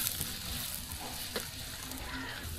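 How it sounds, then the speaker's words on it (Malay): Shallots sizzle steadily in oil in a pan while being cooked down for sambal petai with seafood, a continuous close frying hiss with faint stirring scrapes and no talk. "Kita goreng bawang ni sampai dia layu, sampai dia kekuningan."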